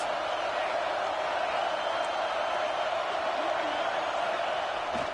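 Stadium crowd at a Texas A&M Aggies versus Texas college football game, roaring steadily behind the defense on a big third down, a dense continuous wash of cheering and noise that holds loud throughout.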